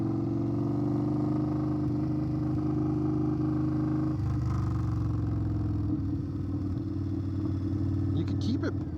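Indian Scout Bobber motorcycle with a custom tuned aftermarket exhaust, heard on the move under engine braking: a steady, loud engine rumble with shifting tones, wind roar throughout and a brief crackle near the end.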